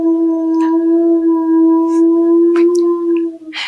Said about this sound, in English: That is one of the best howls I've ever heard.